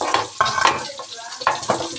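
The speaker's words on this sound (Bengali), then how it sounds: "সবজি দিয়ে ভাজা নিতেছি।" Mixed vegetables, including beans and potatoes, fry in a pan, with a close sizzle under repeated scraping stirs that come in short bursts.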